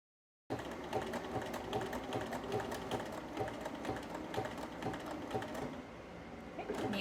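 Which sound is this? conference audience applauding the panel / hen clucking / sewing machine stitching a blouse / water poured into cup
sewing machine stitching a blouse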